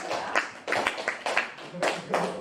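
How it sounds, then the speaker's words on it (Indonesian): A class of students claps for group 3 in a classroom, a few uneven bursts of hand claps close by, rising and fading over two seconds. "kita beri tepuk tangan dulu untuk kelompok 3"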